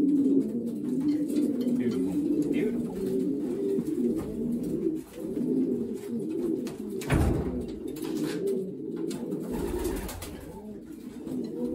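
Racing pigeons coo continuously at close range during race basketing, layered rolling calls with a brief thump midway and a faint murmur of activity around them.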